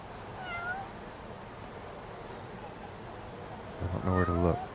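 A cat meows in the video game Judgment: one faint, short meow early on, then a louder, nearer, drawn-out meow near the end, over a steady low ambient hum while people talk.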